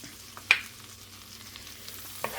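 Finely chopped onion dropped into a pan over medium heat starts a low, steady frying sizzle, marked by a sharp clink of a utensil early on and a lighter tap near the end, with no talking.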